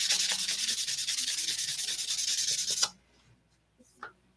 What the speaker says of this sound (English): you start sanding on this